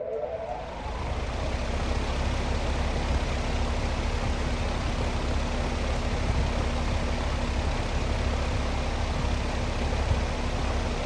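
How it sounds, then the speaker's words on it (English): An LAU 18-inch counterclockwise two-bladed H-Series AC unit fan blade spinning, giving a steady, even whoosh of moving air with a faint constant hum, building up briefly at the start and then holding level throughout. "I guess it's time to give this fan a spin"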